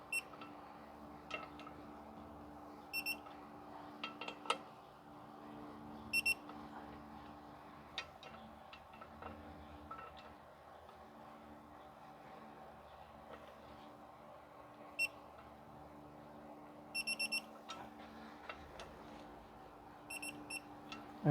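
A torque wrench tightens clutch bolts on a 2010 Toyota Corolla 1.8 during clutch installation, giving sharp, sparse clicks in small clusters over a steady low background hum, with no talking.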